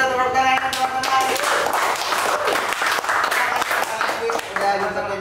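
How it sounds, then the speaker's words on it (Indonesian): An audience at an indoor talk on quitting smoking claps hands in a steady burst of applause lasting several seconds, with some talk mixed in. "Boleh kita tepuk tangan teman-teman."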